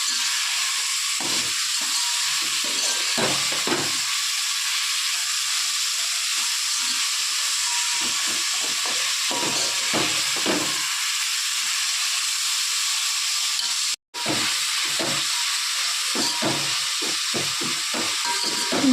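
Onions frying in a pan for chicken biryani give a steady, loud hiss of sizzling across the whole stretch, broken by brief scraping stirs and one instant of silence near the end, with no talking.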